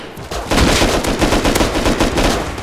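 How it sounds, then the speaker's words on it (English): Gunfire in the survival game Rust: after a brief quiet moment, a loud burst of rapid, overlapping shots rings out, rattling on in a close, dense volley until the end. "They're shooting!"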